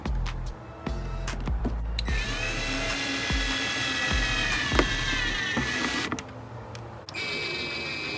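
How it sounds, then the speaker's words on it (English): A hose clamp being tightened on the air intake of a BMW E90 M3 V8 with an AFE Stage 2 carbon fiber elbow, heard as a close, sustained whirring of a powered driver with brief clicks and stops. "Now we need to tighten the clamp right here."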